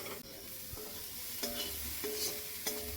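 Food frying in a pan on a home stove while being stirred, a soft steady sizzle with a few scraping strokes of the spoon against the pan, heard close and alone.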